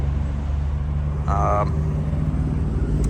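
A 2025 Ford Explorer ST engine rumbles deep and throaty through an AWE aftermarket exhaust, sounding diesel-like, idling steadily nearby. A brief high whine rises in the middle.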